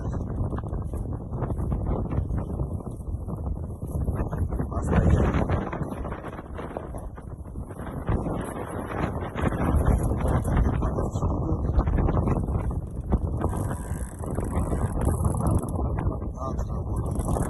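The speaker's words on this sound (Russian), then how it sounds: "Ветер интересный, порывистый, нестабильный, работает на снастях." Gusty, unsteady wind at sea just outside a bay, working on a sailboat's rigging, roars steadily and close for the whole stretch, with strong buffeting surges and flapping rustle.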